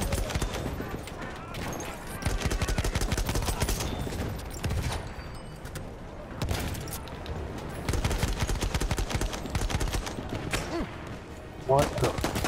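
Rapid gunfire from a Battlefield 1 match, dense bursts of shots and sharp cracks repeating throughout at close range, with a brief louder burst near the end and the dull rumble of battle underneath.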